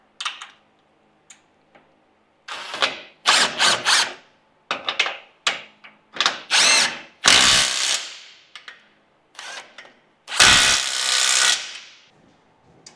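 Power tool driving a 14mm socket on a Toyota Hilux front differential, sounding in loud separate bursts of whirring and ratcheting, some short and some longer, with quiet gaps and faint clicks between.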